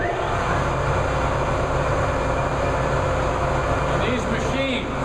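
The motor of a milling machine with a variable speed drive hums steadily and evenly once switched on, a constant close drone with a faint high whine, and a voice speaks briefly over it near the end.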